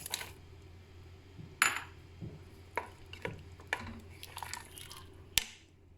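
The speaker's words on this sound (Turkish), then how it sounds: "Şimdi içerisine nohutumu da ekliyorum" Dry chickpeas dropping into a pot of bubbling lobik soup, a handful of sharp clinking and plopping hits spread over several seconds, close and fairly quiet.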